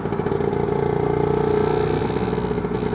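A Lambretta scooter fitted with a BGM PRO MZ30 exhaust runs along at a steady pace, its two-stroke engine buzzing loudly and evenly with a slight rise in revs midway, with no voices over it.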